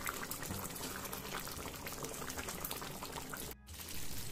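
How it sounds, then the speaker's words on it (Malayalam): A Chinese-style mushroom chicken curry boils steadily in a pan after kasuri methi is added, giving a continuous close bubbling hiss with a brief dip near the end and no talk. "കസൂരി മേത്തി ഇട്ടതിന് ശേഷം കറി നന്നായി തിളച്ചു"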